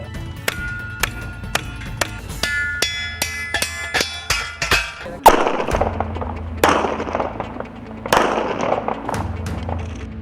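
Rapid gunfire from women's commando shooting training: a run of sharp, evenly spaced shots, then a few heavier, louder blasts, close and with no talking.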